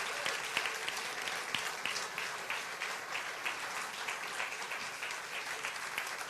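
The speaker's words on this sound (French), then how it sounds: "Tu veux applaudir avec moi?" A church congregation at a first-anniversary service applauds together, a continuous wash of many hands clapping, fairly distant and even, with a few sharper claps standing out and no speech.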